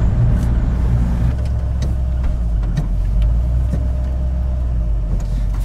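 A car with an AOD automatic transmission, just after a fluid change, drives along with a steady low engine and road rumble heard from inside the cabin, plus a few faint clicks.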